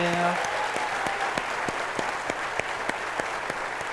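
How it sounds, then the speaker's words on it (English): A conference audience at a community foundation's annual meeting gives panelists a round of applause, a dense, even patter of many hands with a few distinct sharp claps rising through it. "So please, louder round of applause for our panelists"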